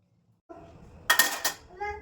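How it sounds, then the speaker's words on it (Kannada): Pots and dishes being washed in a small home kitchen clatter and clink in a few sharp knocks, close by, with a soft voice and other faint household sounds around them. "ಅದಕ್ಕೋಸ್ಕರ ಫಸ್ಟ್ ಪಾತ್ರೆ ತೊಳೆದ್ಬಿಡ್ತೀನಿ"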